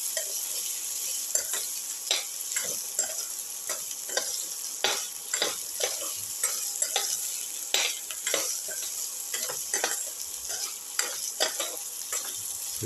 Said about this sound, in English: Sauté the garlic along with the shallot and the ginger.